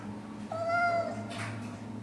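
Kitten meowing in the Harry Potter and the Sorcerer's Stone video game: a single clear, high, drawn-out meow over steady background game ambience.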